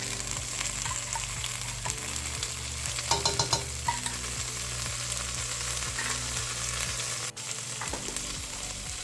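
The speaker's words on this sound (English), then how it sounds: "we're just going to stir fry that for a little bit" Red curry paste and shrimp paste stir-frying in a hot pan, a continuous close sizzle with rhythmic scraping and tapping of a utensil, a brief clatter near the middle, no voices.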